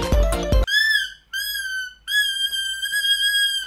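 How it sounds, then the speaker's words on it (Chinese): A small cheap plastic toy whistle from a surprise-box unboxing gives three shrill, steady tones of a second or less each, separated by short gaps, after a brief burst of clatter at the start. "小哨子一个"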